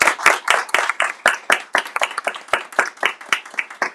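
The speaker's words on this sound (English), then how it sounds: "Can we get another round of applause for that beautiful prologue?" An audience at a book event gives a round of applause, its claps coming in a steady, fairly close rhythm that stays crisp and distinct.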